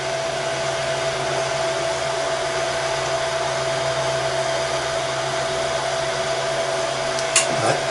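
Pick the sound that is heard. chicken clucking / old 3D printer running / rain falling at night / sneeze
old 3D printer running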